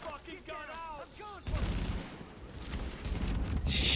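Gunfire from the video game The Division, a sustained loud volley of rapid shots starting abruptly after a voice and continuing to the end.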